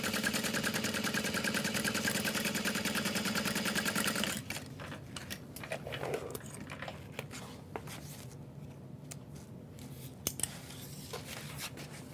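A sewing machine runs steadily and loud for about four seconds while stitching a tote bag of Renew canvas through stabilizer, then stops, leaving handling rustles and small clicks.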